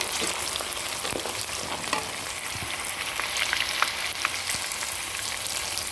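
Fenugreek seeds sizzle in hot oil while vatha kuzhambu is cooked, a steady fine crackle with scattered sharper pops, close and moderately quiet, with no talk.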